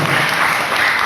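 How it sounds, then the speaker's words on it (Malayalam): A crowd at a Syrian Catholic church wedding claps together in a dense, steady burst of applause that fills the room loudly for the whole moment. "ഒന്ന് കൈയടിച്ചറിയിക്കുക"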